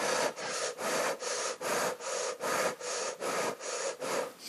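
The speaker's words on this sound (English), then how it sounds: "it's a rapid breathing in and out" Rapid, forceful breaths in and out through the mouth, about two per second in a steady rhythm, close and loud with no talking.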